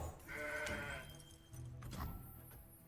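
A Mountain Goat card played in Legends of Runeterra gives off a short goat bleat, two wavering calls a moment apart, quiet and close, set among soft game sound effects with no talking.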